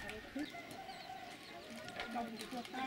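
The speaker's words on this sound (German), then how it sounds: "Die schwarze Henne mit weißen Kippen und mit bunten" A black hen clucks softly outdoors in Mae Hong Son, Thailand, short scattered clucks amid faint background birds and ambient noise, with quiet talk in the scene.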